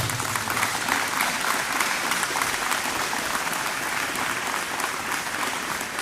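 Audience applause at the 115th anniversary ceremony of the city of Villa Ángela, dense and sustained clapping from a large crowd that stays loud and even for the whole stretch.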